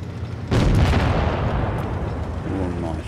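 A tank cannon fires in World of Tanks Blitz, one sudden loud blast followed by a long rumbling, crackling decay, while a commentator's voice talks beneath the game sound.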